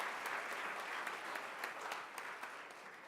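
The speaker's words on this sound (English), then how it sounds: "Let's have another round of applause for 15 years." A crowd at an organization's 15th-anniversary event applauds in a dense, continuous wash of clapping. It holds steady and fairly even for the whole stretch, with a few individual claps popping out.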